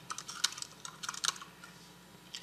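Rapid, uneven clicking of keys on a computer keyboard while entering a name and description into IBM Rational DOORS software, soft and close, with irregular bursts and short pauses.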